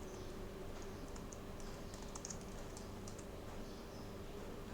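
Faint, sparse clicks of keys being typed on a computer keyboard while entering a MySQL command in PowerShell, irregular and soft over a steady low background hum.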